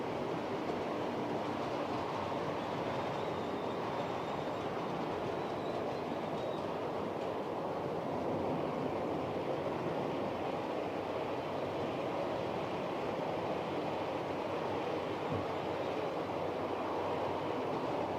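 An intercity train in full livery with a DVT runs past, a faint, steady rumble of wheels and rolling stock that continues evenly throughout, heard from some distance.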